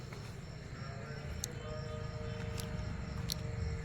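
Cows at a cow shelter in Gujarat low faintly and intermittently beneath a steady wash of outdoor background noise, with no voices present.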